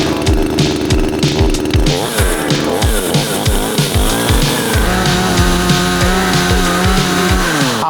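A chainsaw running at a forest campsite, loud and close, its engine revving in repeated sharp bursts that rise and fall before settling into a steadier high whine, with no voices.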